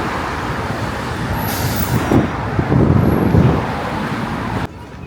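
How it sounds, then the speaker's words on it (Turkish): City bus on the Kadıköy–Bostancı line pulling up at a stop, with steady roadway rumble, a hiss of air brakes and a brief squeal before the engine noise cuts off abruptly near the end. "otobüs geldi"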